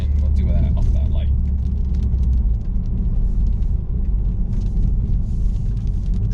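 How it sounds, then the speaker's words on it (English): A BMW 328i fitted with a BMW 335i exhaust drones low and steady in comfort mode, a continuous deep rumble close up throughout, with a voice speaking over it at the start. "It's a little droney when you're kind of in comfort mode."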